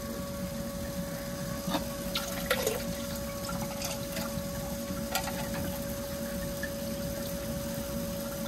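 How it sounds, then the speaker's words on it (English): Water being poured out of a hydrometer tube while checking reef aquarium salinity, a steady faint trickle and splash over a constant electrical hum, with a few small clinks throughout. "I'm gonna pour it out and do it again."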